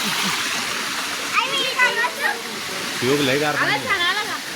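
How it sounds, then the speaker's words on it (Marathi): Water rushes down the rocks at Konkan Kada waterfall in a steady, close roar, with voices, including a child's, talking over it. "सगळीकडून पाणी चाललेलं आहे"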